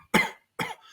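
A person deliberately produces two short, explosive coughs in quick succession, close and loud with a brief silence between them, imitating a normal cough.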